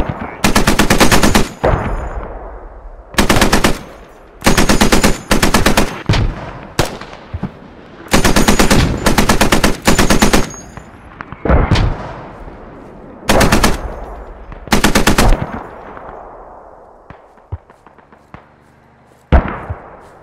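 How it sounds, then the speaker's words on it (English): Bursts of machine gun fire in the military shooter Squad, loud rapid automatic volleys in several separate strings with echoing tails and quieter distant shots between them. "So I'm going to the MG next."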